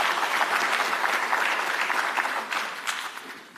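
A room of attendees at an industry and stakeholder forum claps steadily for a few seconds, full and close, with individual hand claps standing out before the sound begins to thin toward the end.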